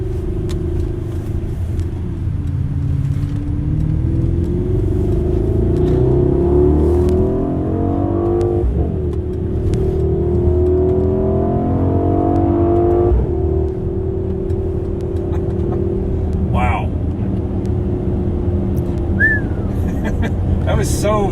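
A 2021 Mercedes-AMG GLS 63 SUV in S+ mode pulls hard from inside the cabin, its engine droning and rising in pitch through several gear shifts. The engine sound is continuous and loud.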